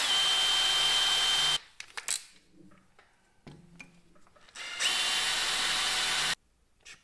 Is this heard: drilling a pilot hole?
yes